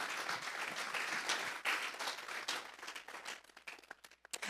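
Church congregation applauding together during a Spanish-language service, a few seconds of fairly quiet, dense clapping that thins into scattered claps at the end.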